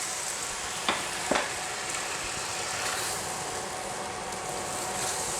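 Noodles with maple ginger sauce sizzle steadily in a hot pan during stir-frying, a continuous frying hiss broken by two brief sharp clanks near the start.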